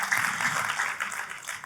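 A church congregation applauds during a sermon, a brief burst of moderate clapping that carries on evenly, with faint voices beneath it.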